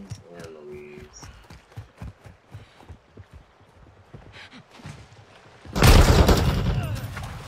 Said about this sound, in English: I got shot from three different fucking directions at once